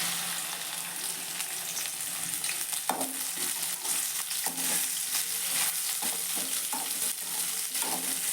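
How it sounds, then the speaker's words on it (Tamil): Okra (lady's finger) frying in hot oil in a kadai, a steady loud sizzle throughout with occasional soft stirring knocks and scrapes. "எண்ணெய் சூடு ஏறினதுக்கப்புறம் நம்ம அந்த வெண்டைக்காயை போட்டு நம்ம அதில் பொரிச்சு எடுக்க போகிறோம்"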